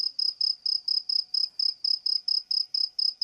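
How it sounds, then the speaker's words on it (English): A cricket chirps by rubbing its wings together, a loud, steady, rapid series of about fifteen evenly spaced high-pitched pulses, close and alone. "It makes a loud sound by rubbing its wings together."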